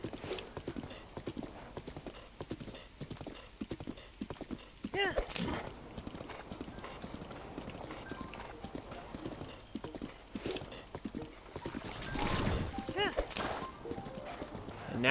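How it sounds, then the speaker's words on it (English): In the Breath of the Wild video game, wild horses clip-clop in a steady rhythmic trot with occasional whinnies. Game music and ambience play underneath, and a voice talks over them. "There are some wild horses here you can catch if you don't have Epona."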